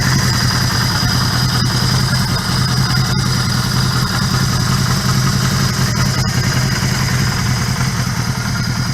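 A 1977 Suzuki GS 550 motorcycle, started for the first time in two years, idles loud and close with a steady low rumble and a few brief ticks throughout, no voices present.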